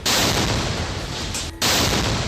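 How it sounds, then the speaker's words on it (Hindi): A loud, dense explosion goes off as a flag pole is set down on the ground near soldiers at the Israel–Palestine border, a thick roar of blast noise that fills the clip, cuts out briefly, then surges back. "जैसे ही वो फ्लैग पोल को जमीन पर रखता है, एक जोरदार धमाका होता है"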